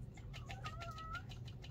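A cat meows close by, a few drawn-out tonal cries over a low steady background hum in a room where someone is painting in watercolour.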